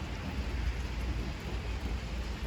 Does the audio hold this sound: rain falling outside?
yes